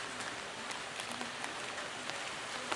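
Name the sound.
afternoon rain falling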